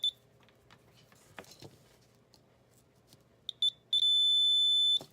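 A multimeter in continuity mode gives short beeps, then one sustained steady tone, while probing a solder joint on a portable 40-30-20m tri-band vertical antenna kit.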